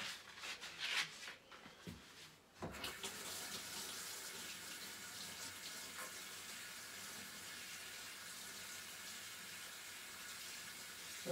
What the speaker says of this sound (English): Let me wash out this brush. And wash up this tub of paint.